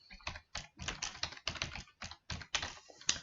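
Typing on a computer keyboard, quick irregular clusters of close key clicks with brief pauses between bursts, alone and fairly quiet.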